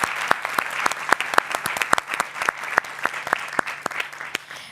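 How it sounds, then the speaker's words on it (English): Applause from a live studio audience, thin and scattered with individual sharp claps standing out in an uneven rhythm, moderately loud and tapering off at the end. "you can give yourself a warm round of applause"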